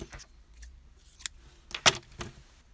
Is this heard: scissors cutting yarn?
yes